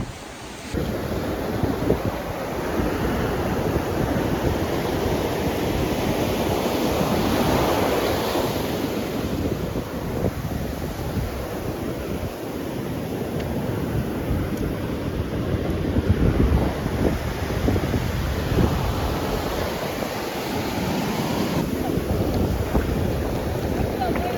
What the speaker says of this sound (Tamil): ஆனா அங்க இருந்து பெருசா அலை வருது